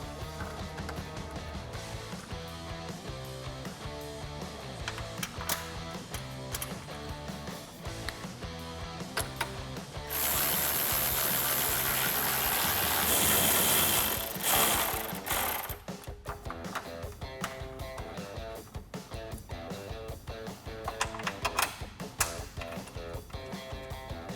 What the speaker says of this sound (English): Now we can reinstall our 4 10mm bolts at the top of our grill.